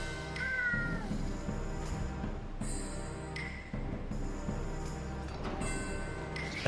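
A cat meows several times in a row, drawn-out plaintive cries heard over steady game music and sound effects, moderately close and clear.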